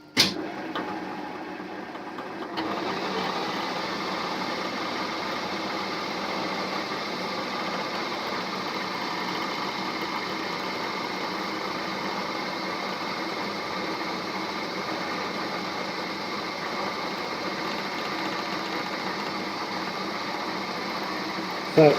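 A metal lathe cutting a chuck backplate, about 2.5 millimeters deep, giving a steady mechanical hum and hiss of the turning and cutting that starts after a brief quieter moment and runs evenly throughout.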